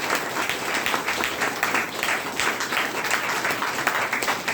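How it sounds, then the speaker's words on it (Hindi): An audience at a health training program in Bhagwanpur claps loudly and continuously, a dense, close patter of many hands that holds steady throughout with no talk over it. "इनके लिए ताली जोरदार मार सकते हैं।"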